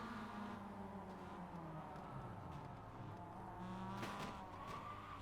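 Race cars in the iRacing sim game bunched at turn one just after the start: several droning engine notes overlap with tire squeal, and a brief sharp impact-like burst cuts through near the end.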